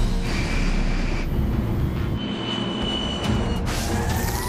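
Air Force One jet aircraft in a rapid descent in an action movie, a dense continuous roar of engines and rushing air with shifting tones and whines, loud and unbroken throughout.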